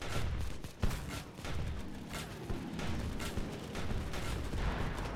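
Rapid rhythmic shots of armor-piercing ammunition fired at an enemy in the Steampunk Tower 2 video game, a steady train of thumping blasts over a constant mechanical background.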